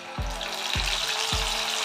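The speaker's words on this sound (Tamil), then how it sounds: "எண்ணெய் சூடு பண்ணியிருக்கேன் மீன் பொரிக்கிறதுக்கு" Constant hissing sizzle of masala-coated sardines frying in hot oil, with three low thumps at regular intervals beneath the crackle.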